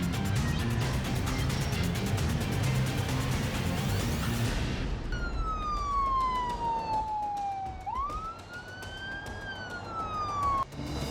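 Police car sirens wail in the driving game BeamNG Drive. A rising and falling electronic siren sweeps clearly after a few seconds of engine and road noise, then shifts pitch and continues loud and close.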